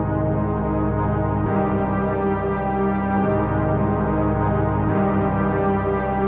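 Dense hip-hop beat from an MPC Live 2 slowed by half-speed modulation, a thick, muddy, low-heavy loop with sustained layered tones and heavy kicks landing roughly every couple of seconds; loud and continuous, no talk.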